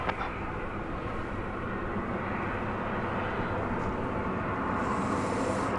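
American Airlines jet taking off at night from Dallas Fort Worth Airport, a steady loud engine roar and rumble that holds throughout, heard from the spotting area with no talking.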